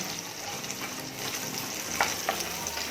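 Rasam tempering (oggarane) sizzling in hot oil with a little asafoetida, a steady close frying hiss with a couple of brief pops and stirring clicks.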